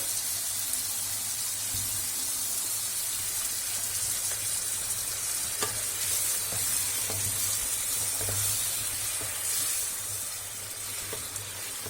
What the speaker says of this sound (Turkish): Havuçları, pırasaları 5 dakika kadar kavurdum.